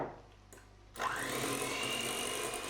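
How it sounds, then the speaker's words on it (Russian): An electric mixer whirs steadily after a short quiet start, blending whipped cream into a coffee-chocolate custard for a cake, with a constant close motor hum. "Размешивать можно при помощи миксера."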